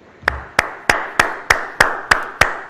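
A single person claps slowly and steadily after a song, about eight or nine sharp, evenly spaced claps heard close and alone.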